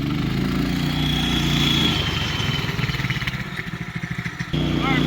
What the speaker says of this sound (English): Alright, braking now.